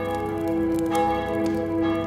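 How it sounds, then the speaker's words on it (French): A church bell rings out loud and resonant, its long humming overtones sustained throughout with fresh strikes layered over the ringing, heard alone without any voices. "la cloche de l'église sonna 5 fois"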